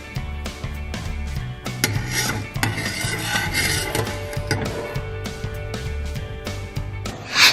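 A spoon stirs sugar and milk in a pot on the stove with steady scraping and clinking against the pot for several seconds. A louder knock comes near the end.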